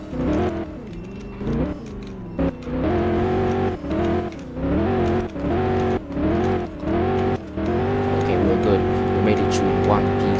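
Tuned BMW X6M Competition SUV pushed hard around a race track, its engine note rising and falling in repeated surges through turns, loud and close, with someone talking over much of it.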